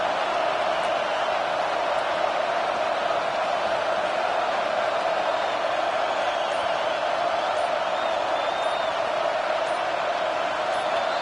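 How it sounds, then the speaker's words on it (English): A steady, dense roar from a loud football stadium crowd at an NCAA college game, continuous and unbroken wall of noise throughout, with no distinct voices standing out. "with this place rocking, the crowd forces a false start"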